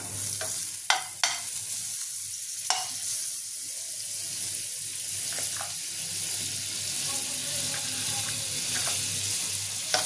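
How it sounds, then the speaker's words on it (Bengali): Butter melts in a hot pan while cooking hilsa, giving a steady close sizzle and hiss with a few sharp utensil taps near the start. "প্যানটা আমার গরম হয়ে গেছে, এর মধ্যে আমি এবার বাটার দিয়ে দেবো"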